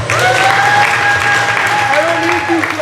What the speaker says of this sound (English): I don't need you clapping for me.